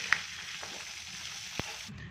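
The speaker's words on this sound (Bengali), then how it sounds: "ওইভাবে মাথাগুলোকেও ভেজে নেব" Hilsa fish heads frying in oil give a soft, steady sizzle, broken by a couple of brief sharp pops.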